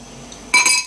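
A spoon stirs strained berry drink in a dish: after a near-silent start, a short burst of glassy clinks and scraping rings out close by for under half a second.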